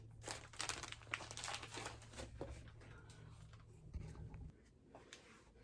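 Clear plastic packaging crinkled and crumpled by hand at a packing station, a run of quiet, close rustling crackles and crunches with a faint low hum under it, fading toward the end.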